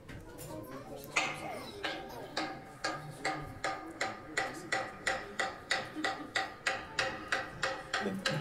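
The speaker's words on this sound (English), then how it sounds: "This is a semandron." A wooden semandron on Mount Athos is beaten with a hammer as a call to prayer, sharp hollow knocks that settle into a fast, steady rhythm, with faint voices in the background.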